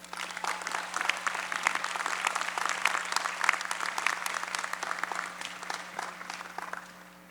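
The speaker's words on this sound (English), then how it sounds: "Please join me in applauding the efforts of our emeriti faculty." Audience applause at Boise State University's spring commencement, honoring the emeriti faculty: a sustained, dense patter of many hands clapping in a large hall, steady throughout and tapering slightly at the end, with no voices over it.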